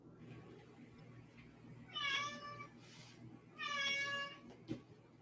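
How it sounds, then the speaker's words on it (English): A pet cat meows twice, a few seconds apart, on a microphone left open during an online Toastmasters meeting. The meows are clear, moderately close tonal cries against quiet room noise, with no speech. "Is that a cat? My cat."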